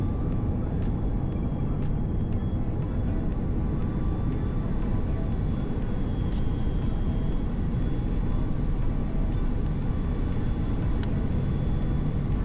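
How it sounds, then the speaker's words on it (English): A Turkish Airlines A330 airliner lands in Dhaka at night, heard from inside the cabin as a loud, unbroken low roar with a steady engine and air rush throughout. "We touched down into the depths of the Dhaka night"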